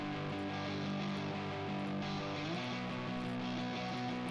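Pop punk beat in the style of Avril Lavigne playing at low level, with the Soothe plugin toggled on and off partway through so the tone shifts slightly around the middle; dense, steady mix with no voice.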